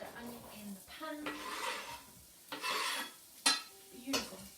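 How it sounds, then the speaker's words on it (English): Finely chopped onions tumble into a frying pan that already holds onion and are stirred for a risotto, giving close clattering scrapes and metallic knocks in uneven bursts with a light sizzle underneath. "we'll just pop them in to join the other onion in the pan."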